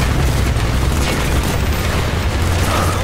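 A detonation in Call of Duty: Black Ops, a loud, deep, sustained rumbling boom that fills the whole moment with heavy low-end roar and no quiet break.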